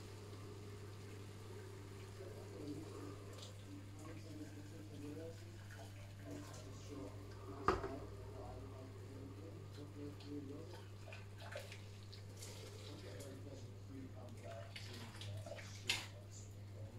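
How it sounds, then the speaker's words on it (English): Hot water runs steadily over rice in a pan to rinse off starch, a soft continuous stream beneath a low constant hum, with a faint splash midway. "Boil this water just to run over this rice to get rid of the starch a little bit."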